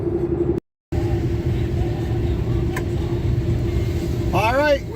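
A truck rolls along a wet limestone road, its cabin filled with a steady engine and tyre rumble that drops out briefly, with a voice speaking over it.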